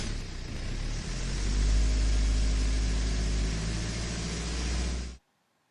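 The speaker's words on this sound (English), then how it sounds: "We can listen to the sound of this car engine." A car engine plays steadily for about five seconds, a dense, loud idling rumble with broadband hiss that swells slightly in the middle and then cuts off abruptly into silence.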